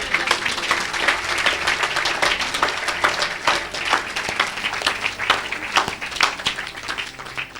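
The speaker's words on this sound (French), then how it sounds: "Acclamez." Audience applause at a church healing service, a sustained wash of dense clapping from a large congregation that stays steady and loud throughout, with faint voices mixed in.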